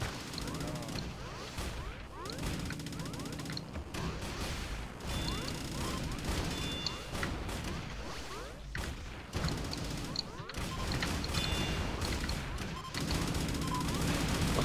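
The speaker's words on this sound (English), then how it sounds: "There's an auto gun down there." Automatic gun fire in the 2D shooter game Gang Garrison, rapid rattling bursts of shots and impacts repeating throughout at close range over busy game noise, with players talking now and then.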